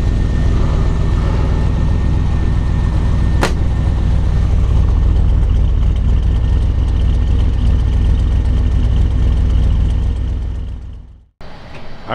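A 1949 Chevrolet 5700 COE truck engine runs steadily at idle, a loud, continuous low rumble close by with one brief sharp click partway through, cutting off near the end.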